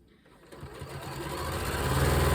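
A sewing machine starts up and runs faster as it stitches red and white quilt block pieces together along the presser foot edge, a close, steadily rising mechanical whir.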